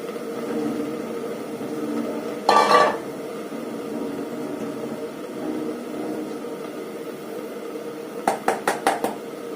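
Capsicum (bell pepper) being stirred and sautéed in a pan: a low kitchen hum broken by a short clatter of a utensil against the pan, then a quick run of four or five sharp taps and scrapes near the end.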